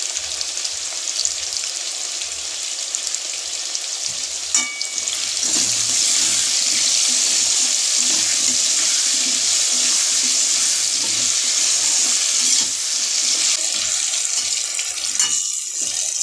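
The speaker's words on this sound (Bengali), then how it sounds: "আমি আলুটা এখানে ভেজে নিচ্ছি" Potato pieces seasoned with salt and turmeric fry in a pan for a vegetarian jackfruit dish, giving a dense, continuous sizzle with occasional crackles and a brief stir or clatter.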